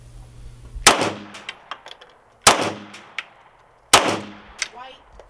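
Three sharp pistol shots fired at a shooting range, widely spaced and loud and close, each with a brief ringing tail and faint clinks between.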